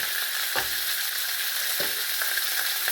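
Fish frying in a pan with only a little oil, giving a steady broadband sizzle throughout with a couple of brief scraping clicks from stirring, close and fairly loud, no voices.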